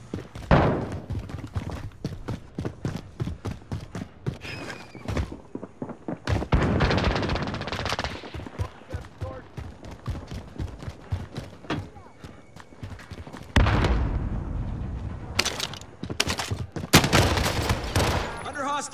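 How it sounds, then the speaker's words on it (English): Rapid bursts of gunfire from the video game Call of Duty: Modern Warfare crack out repeatedly, sharp close shots in clusters with brief gaps, growing heavier toward the end, while in-game voice callouts sound underneath. "Under hostile fire."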